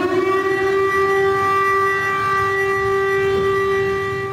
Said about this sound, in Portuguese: Quando eu estava lá, estava uma sirene muito forte,